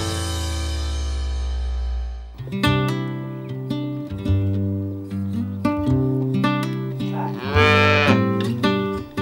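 Dairy cattle and young calves during calving season moo loudly and repeatedly, with several overlapping calls following a low steady rumble in the first two seconds; no one talks.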